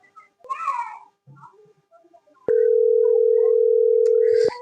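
A phone call goes unanswered, heard as one loud, sustained electronic tone lasting about two seconds that stops abruptly. Brief vocal sounds come before it.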